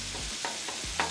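Chunky Jimmy Dean sausage frying on a Pit Boss griddle for a breakfast scramble, loud continuous sizzle with a few quick scraping strokes of a spatula breaking it up.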